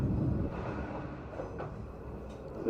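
A Nishikigawa Railway tourist train rumbles along a rural line, a steady low rolling drone heard from inside, fairly quiet with a few faint clicks and no talk.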